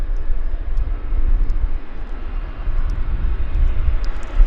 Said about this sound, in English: It's a big, impressive, heavy airplane.